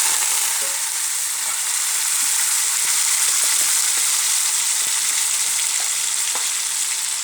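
Potatoes fry in hot oil with a dense, continuous sizzle that stays loud and even throughout, dotted with small pops and crackles, no voices.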